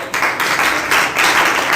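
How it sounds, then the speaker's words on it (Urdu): Applause for a little girl from an audience at a seminar in Lahore: a steady broadband wash of many hands clapping, loud and close, lasting throughout with a brief dip near the start. "بہن کے لیے چھوٹی سی بچی ہے اس کے لیے تالیاں ہو جائے"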